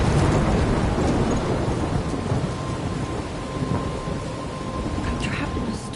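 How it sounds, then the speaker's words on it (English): A thunderstorm in the video game Life is Strange: heavy, constant rain with deep rumbling thunder, loud and enveloping throughout. "I'm trapped in a storm?"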